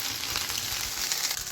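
Pasta for Käsenudeln is stirred in a hot pan, a soft steady sizzle and frying crackle with faint scraping under it, close and continuous for a moment.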